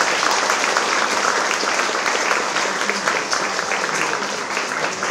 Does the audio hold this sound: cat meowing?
no